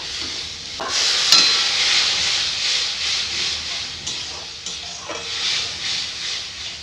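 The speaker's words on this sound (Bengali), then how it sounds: "সব ভুলে লঙ্কা গুঁড়ো দিয়ে দিব হলুদ গুঁড়ো দিয়ে দিব একটু নাড়াচড়া করে একটু জল দিয়ে দিব" Steady sizzling hiss of chili and turmeric powder being stirred in a pan with chopped tomato, fish and vegetables, with a few sharp spoon scrapes and clinks over the continuous frying, close and moderately loud.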